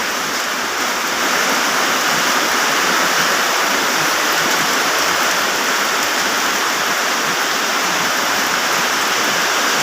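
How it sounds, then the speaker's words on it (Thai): Heavy rain pours steadily, a dense continuous hiss without pause, loud and close, with no voices. "ดู ฟังเสียงฝนตกไปด้วยกันนะคะ"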